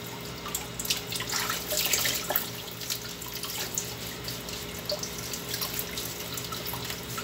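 A potato is scrubbed with a vegetable sponge under a running kitchen tap, with steady splashing water and soft scrubbing touches throughout, close and moderately loud with no talking.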